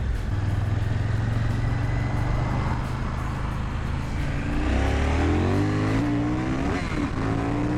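A 2024 KTM 990 Duke motorcycle engine roars continuously nearby, holding a steady drone before climbing into high, rising revs toward the end.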